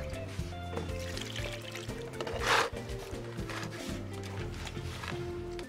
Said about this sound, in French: Ça, je mets d'abord un peu d'eau